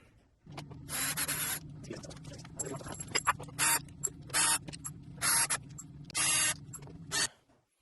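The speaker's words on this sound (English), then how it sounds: "let's go ahead and grab these little screws. Okay, all right, let's screw these suckers on." Small screws being driven into a Veteran Lynx by hand, close and quiet: a series of short, bright scratchy bursts of rasping and clicking, spaced irregularly over a low steady hum, with no talk.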